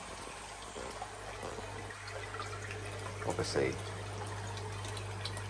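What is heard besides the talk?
water flow from Tempest pump in koi fry tank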